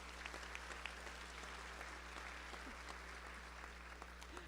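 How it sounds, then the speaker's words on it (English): An audience at an elementary school awards ceremony applauds honored students, a steady, even wash of clapping from many hands heard at a distance and fairly faint, continuing throughout. "Join me with one more round of applause for the honored students at Lakewood Elementary"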